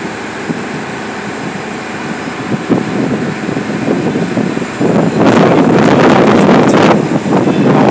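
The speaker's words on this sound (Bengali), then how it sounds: "বাতাসের গতি এত বেশি যে আসলে দাঁড়িয়ে থাকা কষ্টকর হয়ে গেছে।" Strong wind on a rainy day blasts straight into the microphone with a loud, rough, buffeting rumble. It swells into heavier gusts after the midpoint.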